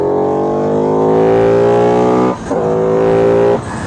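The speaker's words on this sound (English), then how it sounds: "Man, it really starts to turn on once you get into those higher RPMs." A Buell Super Cruiser motorcycle engine revving hard at high RPM, loud and close, with a steady rising harmonic whine that dips briefly twice as the throttle shifts, then climbs again.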